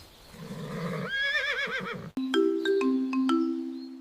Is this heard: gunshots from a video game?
no